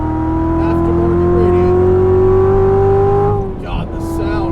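A tuned 2016 Chevrolet Corvette Z06 with an aftermarket radiator roars on a walled racetrack, its engine note holding steady and climbing under load before a shift drops the pitch, loud and close from the cabin.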